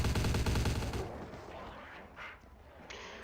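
Gunfire in Vampire: The Masquerade – Bloodlines: a loud, fast burst of rapid shots for about a second, then a fading rumble with a few faint clicks and a brief swell of noise.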